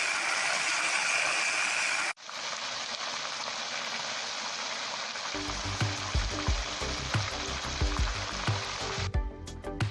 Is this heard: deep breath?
no